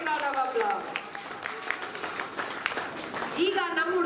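A school audience claps for a children's performance in Bangalore. Scattered clapping sits under loud children's and adult voices, with shouts and chatter mixed throughout the short burst.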